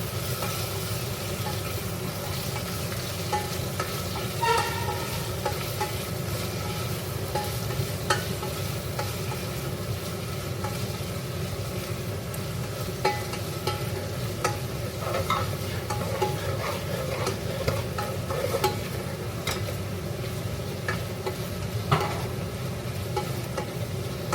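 Ingredients for a home-style mutton biryani sizzle and fry in a pot, a steady close crackle with light scrapes and stirring clinks scattered throughout.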